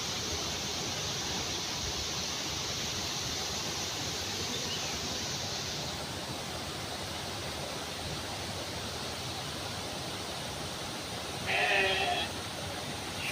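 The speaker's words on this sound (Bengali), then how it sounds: "নিচে একটি ভেড়া ডাকছে" A single sheep on a farm in Rasulpur, Munshiganj, bleats once, briefly and clearly, late on after a long stretch of steady hiss.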